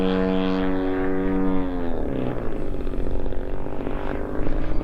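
Engine of a 122-inch Seagull Models Super Decathlon RC airplane with a 60-85cc gas engine, a steady droning propeller tone that dips in pitch midway through a loop, continuous and fairly close.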